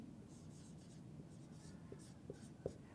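Marker or pen writing on a board during a statistics lecture on log transformations, a steady faint scratching with a few soft taps near the end, no talking.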